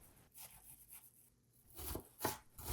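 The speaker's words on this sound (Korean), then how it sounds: "양파와 마늘을 썰어서 준비할게요" Knife chopping onion and garlic on a cutting board, heard as a few quiet, uneven sharp chops and scrapes that grow louder toward the end, with no talking.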